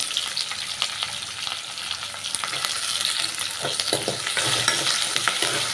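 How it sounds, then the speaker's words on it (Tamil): Garlic, onion and curry leaves fry in a pan with a close, continuous sizzle, punctuated by scraping stirring strokes that grow slightly louder toward the end. "வெங்காயம் பூண்டு பாருங்கள் நல்லா வதங்கிடுச்சு பாருங்கள்"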